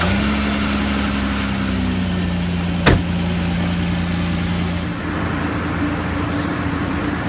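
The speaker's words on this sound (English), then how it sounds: "I'm going to start the truck, because these motors draw a lot of power" A truck engine idles steadily and loudly up close to power a field winch, a continuous low rumble with a brief sharp click partway through and a slight shift in pitch later.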